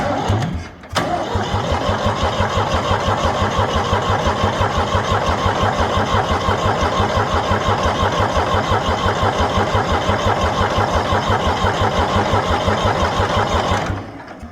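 Starter cranking a freshly rebuilt Ford 3000 tractor engine, a loud, fast rhythmic churning that runs steadily for about thirteen seconds without catching, then stops.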